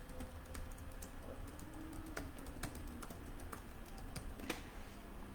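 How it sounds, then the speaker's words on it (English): Quiet keyboard typing at a computer, scattered light key clicks in uneven bursts over a steady background hiss, fairly faint and close, with no speech. "I'm going to type it in the chat."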